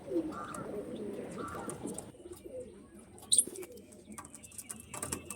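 A pair of Kaldama line pigeons coos in low, rolling phrases for the first couple of seconds, followed by quieter shuffling and a brief sharp chirp, heard fairly close.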